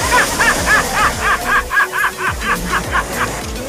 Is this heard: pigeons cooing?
no